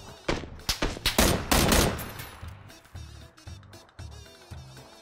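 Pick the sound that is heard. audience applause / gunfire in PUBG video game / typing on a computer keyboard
gunfire in PUBG video game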